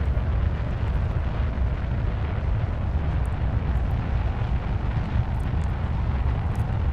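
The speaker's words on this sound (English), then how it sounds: "these solid rocket boosters are going to get me going way too fast" Solid rocket boosters roar through a launch in Kerbal Space Program, a broad, unbroken thundering rush that stays loud and steady from start to finish with no talking.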